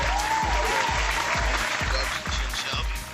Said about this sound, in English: Let's give him an applause again